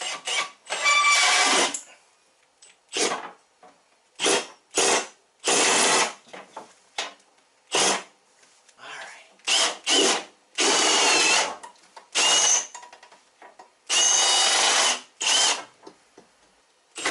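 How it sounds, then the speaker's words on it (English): A power drill fitted with a long flex bit bores up through a wooden door header into the wall header, running in repeated loud bursts of whining, grinding drilling separated by short pauses, with no talking. "So I am going to drill a hole through that"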